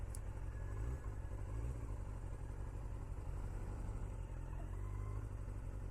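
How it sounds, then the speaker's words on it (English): Low engine rumble from two small microbuses passing close by, steady and continuous with a slight rise and fall, no voices. "Two buses trying to pass. These are like tiny little microbuses"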